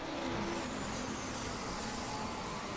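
Engine of a BMW E21 race car in a racing game at the Nurburgring, a distant, faint steady engine drone with a faint higher whine, no talk.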